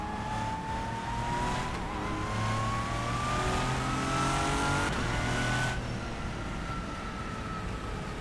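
A hypercar in the rFactor 2 racing game drones steadily through a lap, its engine note climbing gradually through the gears at a constant close, loud level with no talk.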